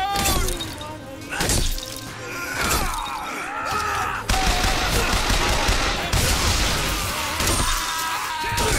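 Gunfire in a video game set in Columbia, bursts of rapid shots with sharp cracks and shattering impacts, loud and close, repeating through the clip over a busy mix of game sounds.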